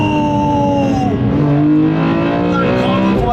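A BMW E46 M3 CSL with a carbon fibre airbox revs loudly, its naturally aspirated engine and induction note rising and falling in close, sustained sweeps.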